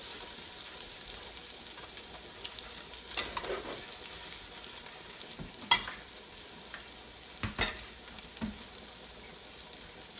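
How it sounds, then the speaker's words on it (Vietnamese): Minced shallots sizzle in hot oil in a pan during home cooking, a soft steady crackle with a few louder spatters and stirs. "Dầu nóng đó mình cho hành tím vô, hành tím băm."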